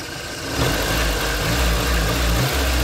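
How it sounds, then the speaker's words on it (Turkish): An old Lada car engine running on petrol idles loudly and steadily up close, a dense continuous rumble with a slight rise in level after the first half second and a faint rhythmic throb underneath. "Aracımız benzinde çalışıyor şu an"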